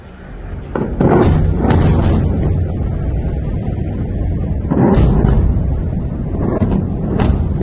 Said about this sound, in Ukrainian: у порту Ходида в Ємені лунають вибухи